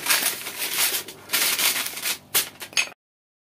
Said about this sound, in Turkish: Şimdi bir merdane yardımıyla hamuru açıyoruz.